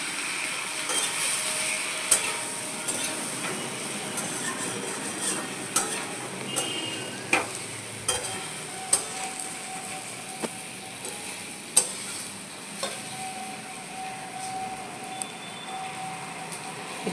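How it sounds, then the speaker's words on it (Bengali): Dried chilli, turmeric and cumin powder fry in a pan for a paneer tikka curry with tomato, giving a low continuous sizzle under repeated sharp ticks of a spoon scraping and stirring. "এরপর দেবো শুকনো লঙ্কা, হলুদ গুঁড়ো, জিরে গুঁড়ো, একটু ভালো করে কষিয়ে নেব"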